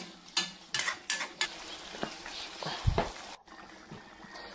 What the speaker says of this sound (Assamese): আৰু এইখিনি ধুনীয়াকৈ এতিয়া আমি লৰাই লওঁ পানী দিয়াৰ পাছত।